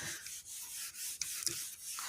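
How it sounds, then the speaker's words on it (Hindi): Eraser or duster rubbing writing off a classroom board during a Hindi pathology lecture, a steady close scrubbing hiss in repeated strokes with short pauses, no voices. "अब मैं इसको रब कर रहा हूँ"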